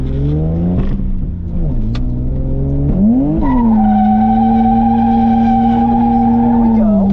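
A rented drift car slides through a drift, its engine revving and sweeping up and down in pitch as the tires squeal, loud and close, with a steady high whine held through the second half.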